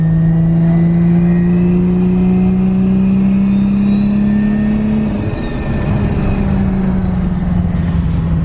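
A 1JZ-swapped Nissan 300ZX on the street gives a loud, steady engine drone that climbs in pitch as it revs, dips briefly, then pulls on again, with no talk over it.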